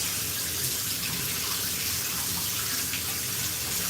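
Hotel bathroom tap running steadily, a continuous close broadband rush of water hitting the sink with no pauses, loud and alone for the whole stretch.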